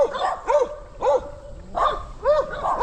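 Several dogs bark near a house along the Suwannee River wilderness trail, loud repeated barks coming in a steady rhythm about every half second to second, with a few whimpering yips between them.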